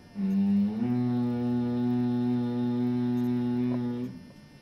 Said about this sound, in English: The vibrations with a humming sound, a vibrant humming sound from the deep stomach